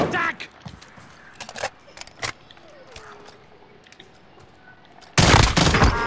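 Call of Duty Warzone gunfire: scattered sharp shots at first, then a heavy sustained burst of automatic fire near the end, with a voice talking in between.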